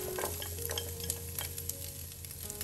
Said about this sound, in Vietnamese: Và mình xào sơ lên.